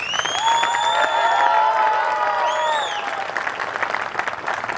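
Village audience at a comic Hindi poetry show in Chomu applauds with steady clapping, while a whistling or tonal sound rides over it for the first few seconds before the applause settles into a softer patter.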